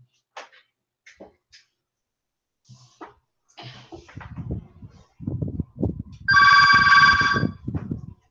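A telephone ringing in a quiet room, one sustained electronic ring burst following scattered faint clicks and a low muffled voice, with soft knocks and rustling continuing under the ring.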